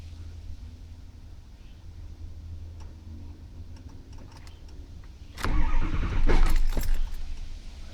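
2006 Ford F250 with a 6.0 diesel, key turned but the engine failing to crank: a steady low idle-like hum, then a louder burst of clicking and rattling midway, close and without speech.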